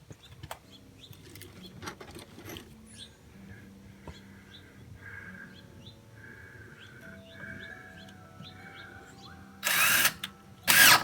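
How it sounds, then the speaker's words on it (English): A power drill drives a screw into wood on a deer blind build, with two short loud bursts of motor whine near the end after quieter scattered handling sounds. "I think I'm going to maybe screw that one in"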